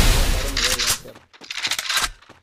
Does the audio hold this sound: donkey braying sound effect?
no